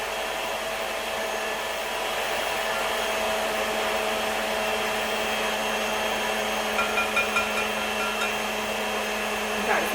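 An electric mixer beats pineapple upside down cake batter with a steady, close, high-pitched whirring drone that holds constant throughout.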